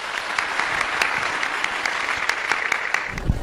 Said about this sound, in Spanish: Démosle un fuerte aplauso a este hermano